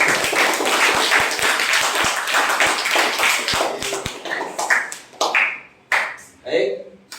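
A class claps hands during a morning classroom game: a few seconds of sharp, close, scattered claps, then a teacher's voice speaking alone.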